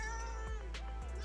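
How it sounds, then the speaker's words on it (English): A cat's meow, a short tonal cry over a steady low hum, fairly quiet and close. "He was meowing just a second ago"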